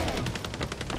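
Rapid covering gunfire in the video game Hired Ops, a fast burst of repeated automatic shots in steady rhythm, loud and close for about a second.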